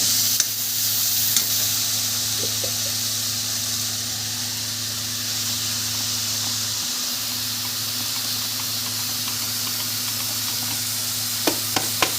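Tomatoes sizzle in hot oil on top of lightly browned onions, giving a loud continuous hiss and crackle close by, with occasional stirring scrapes and no talking.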